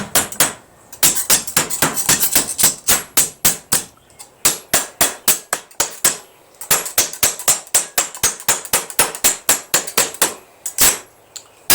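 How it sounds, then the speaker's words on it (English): Rapid, steady hammer taps on sheet metal over a block, hammering out dents, dozens of sharp ringing strikes in quick rhythm with brief pauses, close and loud. "But if I keep hammering, I can take those out. Tap, tap, tap on those areas."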